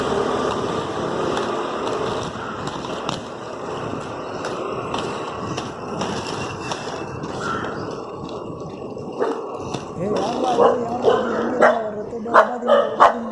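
Dogs bark and yip repeatedly amid noisy outdoor ambience, with sharper barks clustering toward the end.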